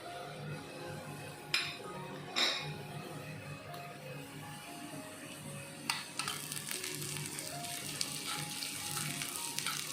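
Cashew nuts and raisins fry in a pan with a soft, low sizzle, broken by a few sharp clinks of a utensil against metal; the frying grows a little louder toward the end.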